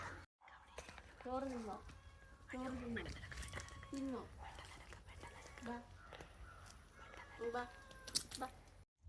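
A mother cat gives about half a dozen separate drawn-out meows, close by and spaced a second or two apart, while people talk softly in the background.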